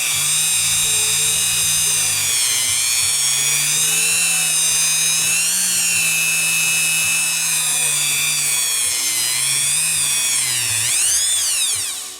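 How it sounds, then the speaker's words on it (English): A Dremel rotary tool spins a B&E high-speed slot car axle while it is polished with Scotch-Brite, giving a loud, close, continuous high whine that wavers slightly in pitch as pressure changes. "Put our B&E slot sport high-speed axle in the Dremel, and we're going to take some Scotch-Brite and just polish it."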